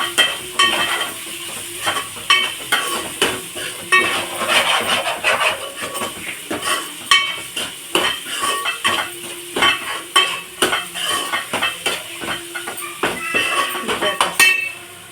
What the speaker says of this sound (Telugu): ఉప్పు వేసుకొని బాగా కలుపుకోండి.